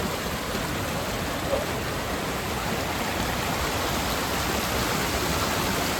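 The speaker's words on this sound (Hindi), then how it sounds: "बारिश हो रही है तो" Steady rain falls on a mountain trail in a green valley, a dense, even hiss of drops on foliage and stone that holds constant throughout, with no voices.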